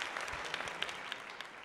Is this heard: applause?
yes